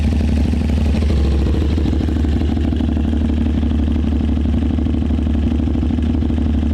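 A motorcycle fitted with a Gabro CRT exhaust and tune idles steadily, a loud, close, even rumble with a smooth, consistent pulse and no voices over it.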